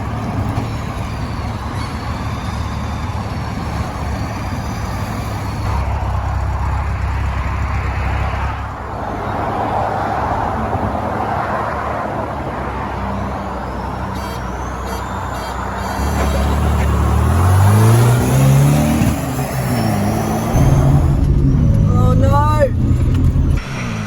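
Two classic cars, an MG B and a DeLorean, launch in a drag race. Loud engines rev and climb through rising gear pulls at close range, with people talking over them throughout.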